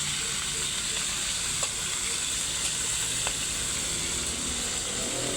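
Hot cooking oil sizzles and spatters steadily while making adobo, a dense continuous frying hiss with a few sharp pops standing out, close and fairly loud with no talking.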